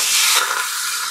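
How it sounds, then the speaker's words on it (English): Bones browning in a little oil on the sauté setting of an Instant Pot, a steady bright sizzle and hiss that is loudest in the first half and then settles slightly, with no voices. "I always think if you brown your meat, it adds a lot of flavor"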